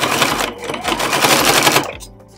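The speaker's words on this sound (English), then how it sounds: "And then just sew straight down." A sewing machine stitches straight down a seam on a small zippered tote bag, a fast close rattling run of needle strokes that slows and stops after about two seconds.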